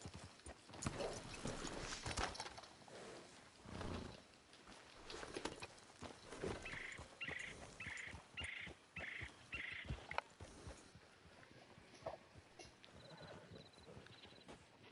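Horse hooves clip-clop in Red Dead Redemption 2, a steady close walking rhythm of hoof beats over gravelly ground, with a brief run of evenly spaced chime-like tones partway through and no talking.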